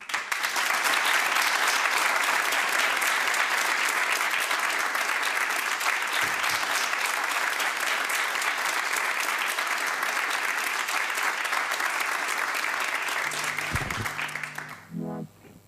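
Studio audience applause on a Portuguese music television programme, sustained and full for about fourteen seconds before fading, with a short musical note entering at the very end.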